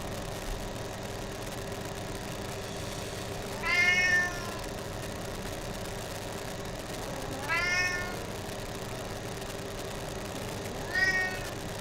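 A cat meows three times at spaced intervals of about four seconds, each call rising and falling, heard over a steady low engine-like hum, with no one talking.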